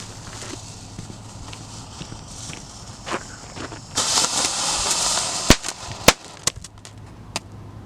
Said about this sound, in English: So the one I just lit off, that blue mini fountain